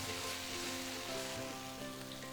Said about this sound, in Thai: ผัดให้เข้ากันเลยนะครับ